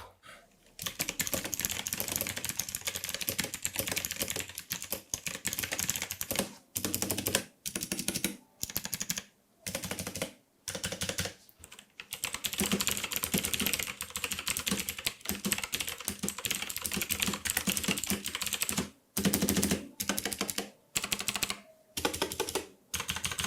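Mechanical keyboards with blue switches, an SPC Gear GK530 and a Sharkoon SGK, clatter in dense bursts of clicky keystrokes, close and fairly loud, broken by short pauses.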